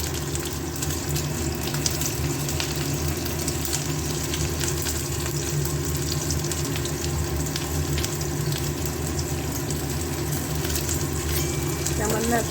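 Chopped onions frying with salt in a pan, a continuous bright sizzle with some watery hiss and occasional stirring, steady and close throughout.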